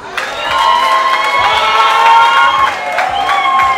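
A crowd at a family celebration applauds, cheers and whoops loudly and continuously, with excited shouting and children's voices mixed into the dense noise.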